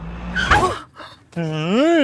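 A car skids with a screech and comes to a sudden stop, loud and close, followed by a brief quiet and a voice speaking.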